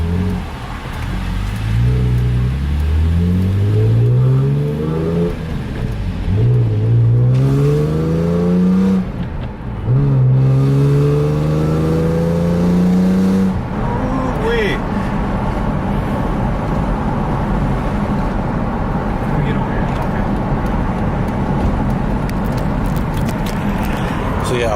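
A manual-converted BMW M3 engine revs repeatedly in rising sweeps, loud and close, then drops to a steady drone while people talk over it.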